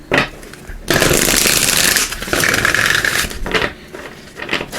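Tarot cards riffle and slap together in a few quick shuffles, crisp and close, with brief pauses between bursts and no voice over them.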